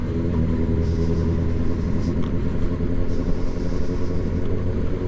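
A motorcycle from the 1980s or earlier is ridden along, its engine a steady low rumble with harmonic drone, close and continuous, with faint wind buffeting and no talk.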